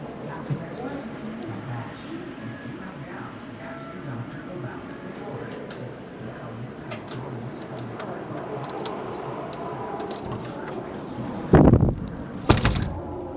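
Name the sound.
door being opened during a blizzard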